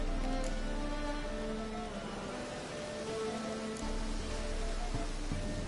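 Steady rain in The Witcher video game falls across the whole stretch, a dense, even hiss of drops on surfaces with a faint low rumble beneath and no voices.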